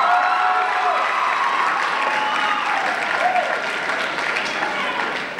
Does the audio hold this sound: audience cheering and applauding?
yes